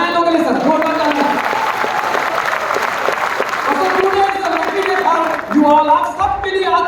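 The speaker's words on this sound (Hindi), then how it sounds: "जोरदार तालियां।" Loud, sustained crowd applause fills a hall at a motivational gathering while a voice keeps speaking over the clapping.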